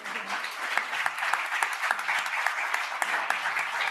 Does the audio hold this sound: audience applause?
yes